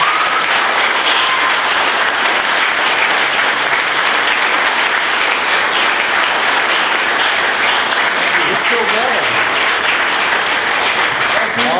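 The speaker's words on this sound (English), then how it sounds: "let's give a huge round of applause for Brian" A crowd at a Startup Grind Charlotte gathering applauds loudly and continuously, a thick, unbroken wash of clapping with faint voices showing through near the end.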